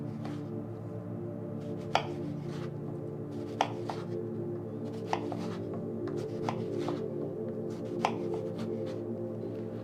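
A knife cuts straight down through stacked eggplant slices on a cutting board, giving a handful of sharp, evenly spaced chops over a steady background hum.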